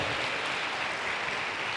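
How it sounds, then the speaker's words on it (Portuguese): Church congregation applauding together in a steady, dense wash of clapping that holds evenly throughout without breaks. "Vamos aplaudir o Senhor, amém?"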